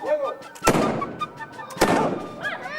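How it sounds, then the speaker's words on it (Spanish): Blank shots ring out at a fortress reenactment where people wear Napoleonic-style military costumes. Two loud, sharp reports about a second apart each boom and echo briefly over background crowd noise. "disparos, que aunque sean de fogueo, despiertan el júbilo de los chavales"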